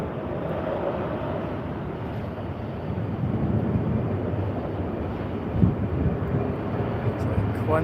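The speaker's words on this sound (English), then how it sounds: "Qantas 737 to the right." A Qantas Boeing 737 airliner passes at an airport with a broad, steady jet roar and wind rumble that swells slightly, while a voice talks nearby.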